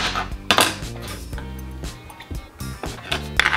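A knife chops yellow squash with a few clacks against a board, over background music.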